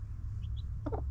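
Chickens in a hen house give a couple of faint chirps followed by a short burst of clucking close by, over a low steady background hum.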